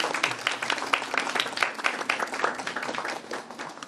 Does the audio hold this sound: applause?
yes